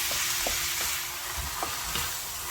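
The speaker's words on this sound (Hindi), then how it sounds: "कीमे को भी डाल के इस तरह से इसके अंदर फ्राई कर लेंगे, रोस्ट कर लेंगे इसको भी।" Minced meat (qeema) fries in a pan, making a constant sizzle broken by a few quick, close stirring scrapes, brief and with no voices.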